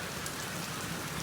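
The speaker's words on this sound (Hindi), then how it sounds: "बहुत तेज़ बारिश आ रही है, मोटी मोटी बूंदी" Heavy summer rain with big drops pours down in a dense, even patter, loud and continuous without pause.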